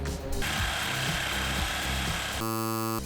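A jigsaw cuts through the wood of a midcentury minibar during a furniture makeover, making a steady close buzzing rasp. The buzz ends in a harsher, tonal mechanical grind near the end.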